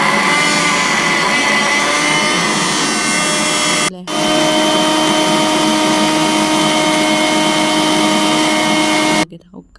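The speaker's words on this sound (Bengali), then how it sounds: "ব্লেন্ডার" An electric blender whirs loudly and steadily with a high, constant motor whine, pausing briefly once before running on and cutting off.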